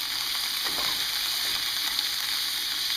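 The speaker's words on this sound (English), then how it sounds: "You have meat, you have your veal cooking, you got your sausage going in the pot." Veal and sausage cooking in a pot of Sunday gravy, a steady close sizzle and gentle bubbling that runs on evenly, with no voices.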